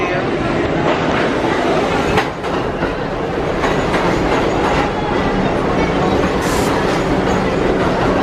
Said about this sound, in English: Here comes one train now.